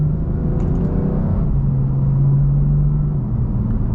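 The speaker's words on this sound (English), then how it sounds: "letting the car warm up with the acceleration" A 2018 BMW M4 engine accelerating gently on the road, heard from inside as a steady, low, close rumble with a slowly rising tone and no talk over it.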